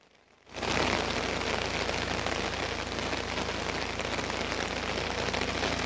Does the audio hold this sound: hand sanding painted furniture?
no